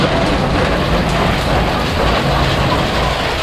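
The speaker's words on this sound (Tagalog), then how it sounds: "Ibang level na yung ulan." Heavy tropical rain on Camiguin island pours down as a loud, dense, unbroken hiss that fills the whole stretch with no voices.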